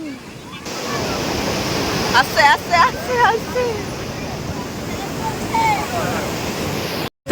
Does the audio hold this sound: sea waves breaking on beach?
yes